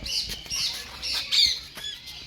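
Repeated harsh squawks from a parrot at a bird safari park, four or five loud calls in quick succession at close range, with no talking over them.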